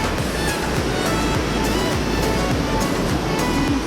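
Large waterfall at Gunung Ledang, a loud, steady, broadband rushing roar of falling water that fills the scene continuously from close range.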